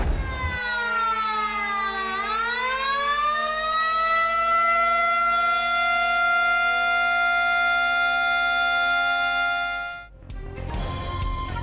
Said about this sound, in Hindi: मीरपुर आज़ाद कश्मीर और रावलाकोट में सायरन बजाकर खामोशी इख्तियार की गई